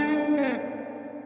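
Spring reverb from the ReCoil plugin in impulse mode, a processed tonal sound washing through a short, sustained metallic reverb tail that stays fairly loud across the whole moment with no talk.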